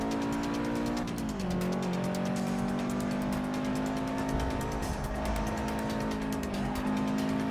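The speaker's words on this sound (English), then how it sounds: "Tires squealing." Race cars in Forza Motorsport 6 howling through a corner, engine pitch sliding down and back up as tires squeal and skid underneath, loud and continuous without any talking.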